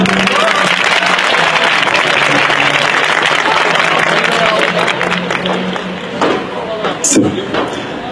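A crowd applauds performers after a traditional Turkish Kavuklu and Pişekar stage play, loud, dense clapping that thins and tapers near the end, with a few sharper claps and a voice briefly audible.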